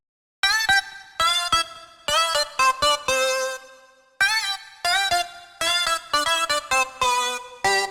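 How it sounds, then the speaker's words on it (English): A bright, voice-like slap house synth lead built from wavetables plays a choppy melodic phrase in short bursts and gliding notes, with brief gaps between phrases, alone and fairly quiet. "Lead grin almost sounds like a vocal,"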